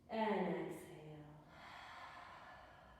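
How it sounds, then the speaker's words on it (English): A yoga instructor's long exhale, a strong breathy rush close to the mic that fades over about a second and a half, followed by a faint airy tail. "And exhale."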